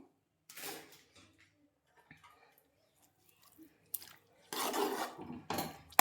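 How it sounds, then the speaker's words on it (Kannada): Cooked broken wheat and lentils with vegetables being stirred together in a pot, giving brief scraping, rubbing bursts separated by near-silent pauses, with a louder stretch of mixing toward the end. "ಇವಾಗ ಒಟ್ಟಿಗೆ ನಾನು ಮಿಕ್ಸ್ ಮಾಡ್ಕೊತಾ ಇದ್ದೀನಿ ಎರಡನ್ನೂ"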